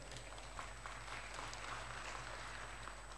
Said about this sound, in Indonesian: Tepuk tangan dong buat Bapak Ibu sekalian.